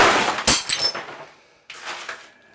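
Old mortar-set shower wall tile being broken off: a sharp cracking break followed by clinking, tumbling shards, a pause, then a second brittle crack with scattering pieces, close and loud.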